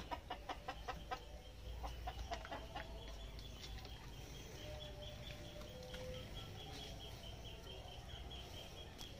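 Chickens cluck in a rural Davao countryside setting, with a run of sharp, repeated clucks early on, then steadier background clucking and insect chirping throughout.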